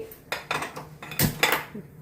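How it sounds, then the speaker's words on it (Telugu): Metal frying pan set down on a kitchen stove while making amaranth leaf chutney, giving a few close, sharp clanks and scrapes of cookware over about two seconds, with no talking. "ఇది కూడా ఒక ఫ్రై ప్యాన్ పొయ్యి మీద పెట్టి"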